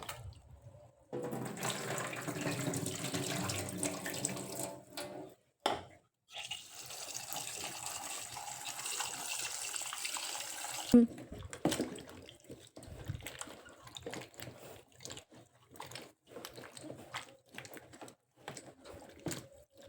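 Tap water runs into a sink while ash gourd pieces are rinsed, with bursts of flowing water, splashing and pauses, followed by scattered handling clatter and faint bird calls in the background.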